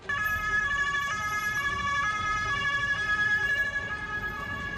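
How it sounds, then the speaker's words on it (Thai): Emergency vehicle siren on a road, a steady two-tone wail held at a constant pitch, loud and continuous throughout with low road rumble underneath and no talking. "ก็จะมีเสียงสัญญาณไซเรนนี้"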